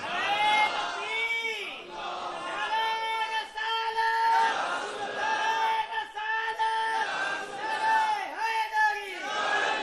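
A large crowd chants religious slogans in unison at a gathering, loud massed voices rising and falling in repeated rhythmic waves of call-like phrases throughout.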